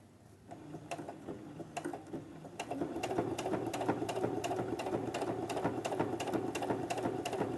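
A Brother sewing machine fitted with an adjustable binder foot stitches binding around a curve, giving a steady, fast mechanical rattle of needle strokes that starts lighter and grows fuller and louder, close up with no talking.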